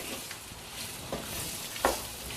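Steady, quiet sizzling of gooseberries frying in oil on a low simmer for pickle, with a few soft scrapes of stirring; no one speaks.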